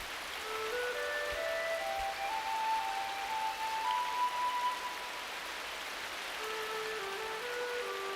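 Steady rain falls through a forest, a soft continuous hiss of drops with faint high bird-like whistles drifting over it, no talking.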